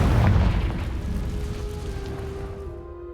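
Confringo blast from the Hogwarts Legacy spell, a single loud explosive boom up front whose thick rumble decays slowly over a few seconds while a faint steady tone lingers, with no voices.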